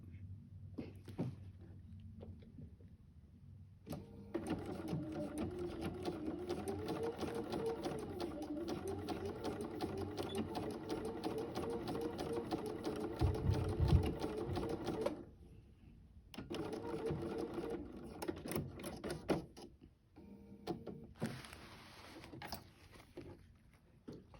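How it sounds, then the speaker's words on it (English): A sewing machine runs zigzag stitches on gown fabric in several bursts, a rapid mechanical chatter that stops and restarts with quiet gaps between runs, fairly faint overall. "I'm going to use a zigzag there and shorten my stitch length a little bit"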